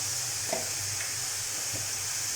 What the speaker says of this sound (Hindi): 2 मिनट हो चुके हैं सब्जियों को फ्राई होते हुए।